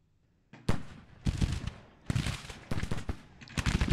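Civil War musket volleys in Grand Tactician: The Civil War, ragged bursts of many overlapping shots rolling out in uneven waves after a quiet start, loud and crackling with brief lulls between volleys.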